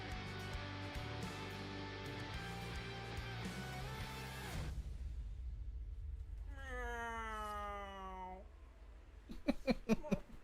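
Cat meows inside a video game, a run of rising and falling mewing calls with clear harmonics that follows a stretch of game music, then a few sharp bursts near the end.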